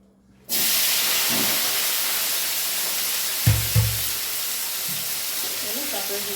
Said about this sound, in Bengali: চলো আগে আলুটাকে ভেজে নিই।